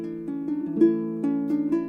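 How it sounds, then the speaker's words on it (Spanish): A lyre, the ancient Greek string instrument, plays a short melodic phrase of plucked notes at moderate loudness, each note ringing into the next in a steady rhythm with no voices. "La lira suena así,"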